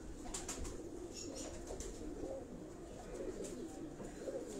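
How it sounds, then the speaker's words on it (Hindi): Pigeons of assorted breeds coo steadily in a rooftop breeding loft in Karachi, a continuous low murmur with occasional wing flutters and faint chirps over a constant background hum. "इस कबूतर को देखें आप"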